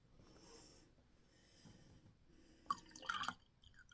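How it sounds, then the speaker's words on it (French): A little water is poured into a houseplant pot, a short splashy trickle near the end after quiet, faint background room noise. "On va juste y remettre un petit peu d'eau."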